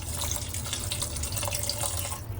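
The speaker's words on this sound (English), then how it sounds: "I will add some water to this so it doesn't get very salty" Water runs steadily into a pot of vegetable broth for a paneer chowder, a continuous close splashing pour with no pause.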